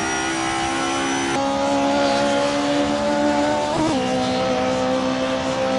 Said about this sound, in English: with a massive fucking engine, 370 horsepower, absolute beast of a car, and it sounds like this